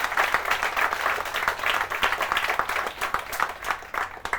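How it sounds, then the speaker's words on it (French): A business-event audience in France applauding a guest speaker: dense, continuous clapping from many hands, fairly loud and even throughout, with no talk over it. "Encore une fois, applaudissements pour monsieur Thienot."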